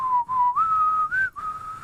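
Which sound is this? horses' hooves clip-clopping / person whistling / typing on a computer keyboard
person whistling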